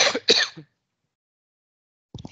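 A man clears his throat twice in quick succession with a harsh, close rasp, followed by a long silence and a brief start of speech at the end.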